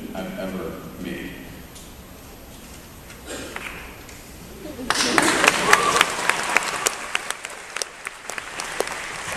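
At a high school commencement, an audience breaks into applause midway, dense clapping rising after some quieter room sound and murmuring, continuing with sharp individual claps to the end.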